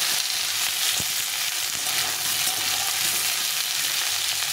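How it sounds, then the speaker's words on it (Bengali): Potatoes and eggplant frying in a pan for a small-fish chorchori, a loud, continuous close-up sizzle and crackle with occasional stirring scrapes. "দিয়ে আলু বেগুনটাকে ভালো করে একটু ভেজে নেব।"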